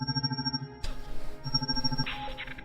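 A telephone rings in a horror video game, Kingdom of Night, heard as a tonal electronic ring over a droning musical background, with a sharp burst of sound partway through.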